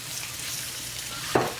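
Plantains frying in a pan on a home stove, a steady soft sizzle throughout with one brief louder crackle burst near the end, close by.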